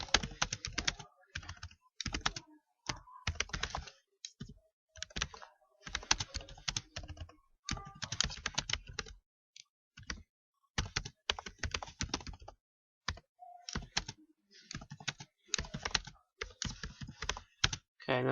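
Keys clatter on a computer keyboard in irregular bursts of rapid taps with short pauses, close and clear against a silent background.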